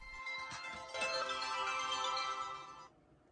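A BlackBerry Pearl 3 phone plays its ringtone indoors at home, a clear melodic tone sequence ringing steadily for about three seconds and then stopping, close and alone.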